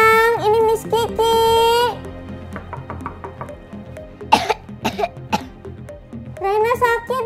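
A run of four or five sharp, harsh coughs from a child bursts out midway, with sung or drawn-out vocal sounds before and after.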